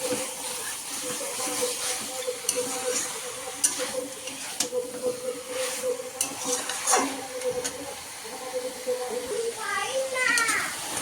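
Duck meat stir-fried in a pan on a gas stove: a continuous hissing sizzle broken by repeated scraping stirring strokes, close and moderately loud, with a voice talking at times over the cooking.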